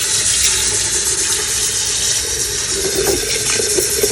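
Water poured steadily into a pot of meat for pozol rojo, a continuous close splashing stream with no pauses.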